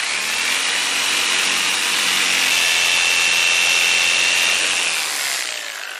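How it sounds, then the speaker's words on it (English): A jigsaw saws through a wooden surfboard fin being readied for fiberglassing, a steady loud buzzing cut that runs for about five seconds and then tapers off as the blade finishes. "Take the jigsaw and chop it off."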